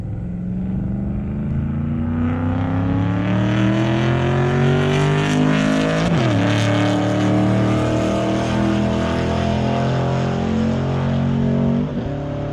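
A loud engine roars continuously as a car accelerates hard on an airstrip, pitch climbing through gear changes with two sharp shifts, close and without talk.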